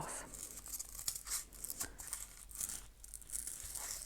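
Paper being cut off an art journal page, soft close rustling and tearing crinkles in short irregular bursts, faint and with no talking.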